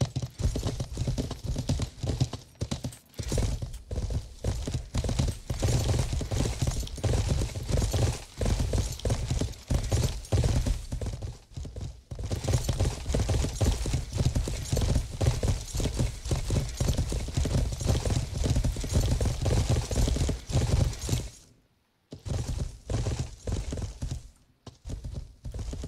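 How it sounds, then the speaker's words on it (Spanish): Horse hooves clip-clop steadily at a riding pace in the medieval game Life is Feudal, loud and continuous for most of the stretch, with a brief gap near the end. "Me subo al caballo y me voy."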